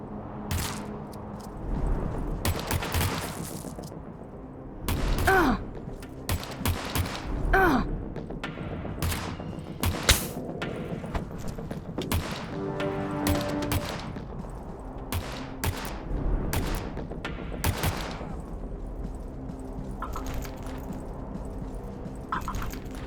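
Rapid gunfire from the video game Pandemic Train, with a pistol among the weapons: dense, loud bursts of sharp shots and semi-auto double taps crack repeatedly throughout, over a constant backdrop of game noise.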